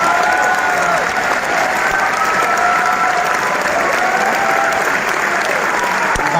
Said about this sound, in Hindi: सलमान गिलानी साहब के लिए बहुत सारी तालियां